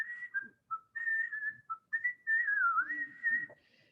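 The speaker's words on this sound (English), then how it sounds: "Grandpa began to whistle." An elderly man whistles a wandering tune in a quiet room, a clear, close melody of short and longer notes with brief pauses between phrases and no talk.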